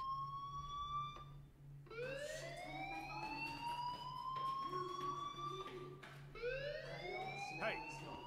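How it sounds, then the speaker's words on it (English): A fire alarm in the video game Life Is Strange rings as a rising, repeating electronic wail that cycles steadily over a constant low hum, loud and continuous. "Hey, do you hear that fire alarm?"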